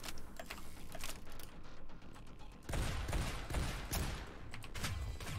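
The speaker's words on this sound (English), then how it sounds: "We get 'em, boys! Yeah, go get 'em, turrets!" Automated turrets in the game SYNTHETIK firing rapid, crackling bursts of shots, quiet at first and then a denser, louder volley.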